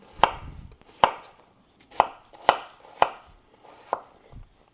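A knife chops an onion into chunks on a cutting board, six crisp, evenly spaced strikes about one second apart, close and clear with no talking.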